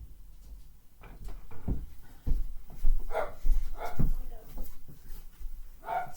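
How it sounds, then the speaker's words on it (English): Two pet dogs bark and whimper indoors in short, irregular bursts, with a few louder yaps standing out over low room noise and faint background voice. "Excuse my dog"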